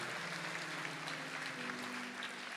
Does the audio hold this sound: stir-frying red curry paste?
no